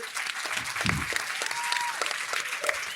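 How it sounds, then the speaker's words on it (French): Steady applause from a hall full of people at the Cité de la Voile, a dense patter of clapping that holds at an even level throughout. "T'as toute la salle de la Cité de la Voile qui va t'applaudir pour te remercier."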